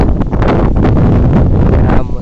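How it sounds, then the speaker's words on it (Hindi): Strong wind buffets the microphone outdoors on a village path near an old temple, a steady loud rushing roar that fills the whole stretch with constant gusty turbulence. "मस्त हवा चल रही है, ठंडक ठंडक लग रही है एकदम"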